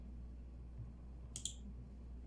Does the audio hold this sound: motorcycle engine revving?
no